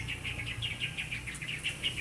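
Birds chirp in a quick repeated series of short high tweets, moderately distant, over a low rural outdoor rumble.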